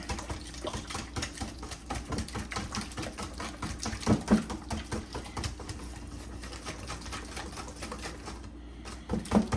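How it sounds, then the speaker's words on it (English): A brand new whisk beats a mixture for sweet potato bombs in a bowl, producing a fast, continuous rhythmic clicking and tapping that stays close and fairly quiet for the whole stretch, with no talking. "Let's get our whisk and just whisk that a little bit."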